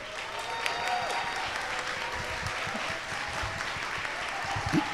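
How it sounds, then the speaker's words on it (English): An audience at Andrea Davis's book launch gives a steady, sustained round of applause, many hands clapping together in a dense, even patter throughout. "We can give her a round of applause."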